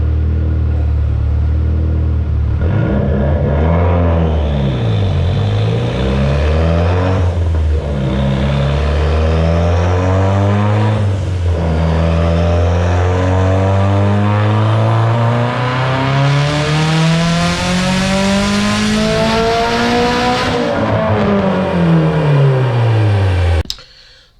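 A turbocharged Mitsubishi Evo X engine with a Forced Performance turbo, Injector Dynamics injectors and flex fuel rises and falls through several loud revs under boost, climbing to a long high-pitched pull near the end before cutting off abruptly.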